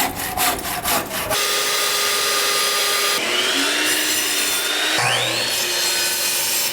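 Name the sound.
saw cutting wood for wall sections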